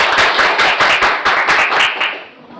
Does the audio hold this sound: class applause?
yes